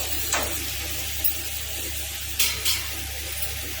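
Chopped carrot and potato frying in a pan for dal khichdi: a steady close hiss of sizzling with a few short scraping bursts of stirring.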